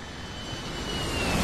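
An airplane engine heard from inside the cabin: a dense, steady broadband roar with a faint high whine, close and continuous, slowly swelling in loudness over a second and a half.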